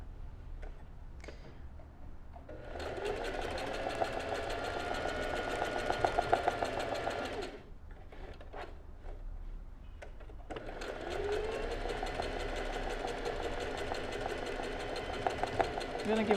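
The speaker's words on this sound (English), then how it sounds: "The machine doesn't like embroidering with sewing thread, so I use embroidery thread." A sewing machine embroidering with shiny embroidery thread on a straight stitch, running in two fast, steady bursts of rapid ticking with a short pause between them, close and moderately loud.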